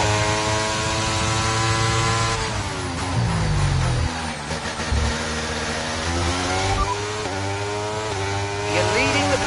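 A Formula One car in the F1 23 racing game winds up hard back to racing speed, its high, buzzing engine note rising steadily through the gears. The engine stays loud and close throughout, and a voice talks over it.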